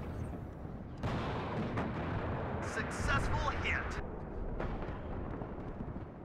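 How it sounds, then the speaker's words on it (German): Muffled artillery booms in the Cold War strategy game WARNO, a few heavy thuds and crackling bursts landing mid-distance under someone speaking German, with a low battlefield rumble throughout. "Jetzt kommt der Artillerie, die nervt natürlich"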